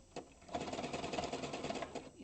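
Sewing machine stitching around a fabric bowl, a steady fast rattling whir that runs close and even for about two seconds after a brief start, with a few louder ticks.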